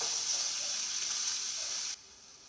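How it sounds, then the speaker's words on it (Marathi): Chili and onion frying in a cumin tempering for poha, a close, even hiss of sizzling oil lasting about two seconds before cutting off abruptly. "तर जिऱ्याचा चांगला तडका देते. तर मिरची आणि कांदा टाकून घेते."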